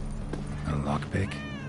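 Cat in the video game Witcher 3 gives a couple of short, close meows, with someone speaking over the same moment.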